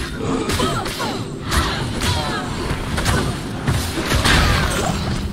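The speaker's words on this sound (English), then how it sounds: "Boom! Corpse explosion." Corpse Explosion effects in Diablo II Resurrected: a dense run of repeated thuds, bursts and whooshing blasts layered over a busy game soundscape, loud and continuous.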